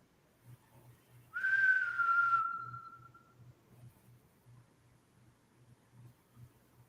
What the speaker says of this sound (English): I just heard whistling.